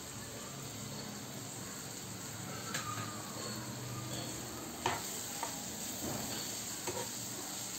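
Soaked cashews frying in masala with chilli powder for shahi shev paneer bhaji, a faint steady sizzle with occasional light stirring clicks and scrapes.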